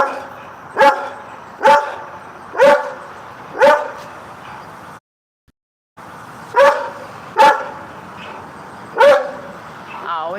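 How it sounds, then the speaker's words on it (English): A brown Doberman barking nearby, loud single barks at an even pace, four in a row, a brief silent gap, then four more. "it's a brown Doberman"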